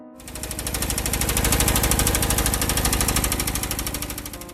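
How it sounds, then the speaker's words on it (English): A Kubota L185 tractor's 17-horsepower 3-cylinder diesel engine runs up close, a loud, rapid, even knocking chug that starts abruptly and holds steady throughout. "a smooth-running, fuel-efficient, and durable 17-horsepower, 3-cylinder diesel engine"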